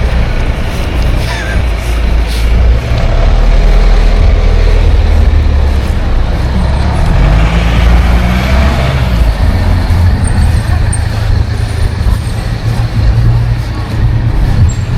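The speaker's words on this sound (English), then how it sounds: "Traffic jam on the main road." Heavy traffic crawling in a jam on the main road through Užupis, with loud, continuous engine rumble from trucks, buses and cars close by, and a hiss like air brakes.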